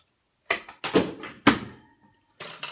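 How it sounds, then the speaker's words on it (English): Several toy figures get knocked over one after another, giving a string of sharp, close thuds and clatters spaced irregularly with short pauses between them. "as I knock three things over"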